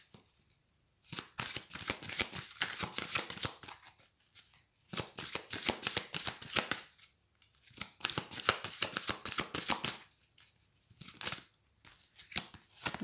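Tarot cards being shuffled by hand in repeated crisp riffling bursts separated by short pauses, close and clear with no talking.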